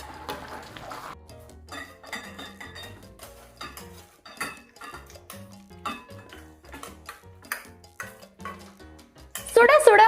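Mutton chops kurma with cashew paste is stirred in a pot, making irregular metallic clinks and scrapes of a spoon on the vessel, with brief voice or music at the start and a louder burst near the end.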